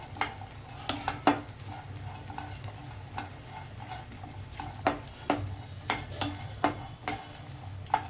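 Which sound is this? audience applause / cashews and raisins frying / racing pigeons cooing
cashews and raisins frying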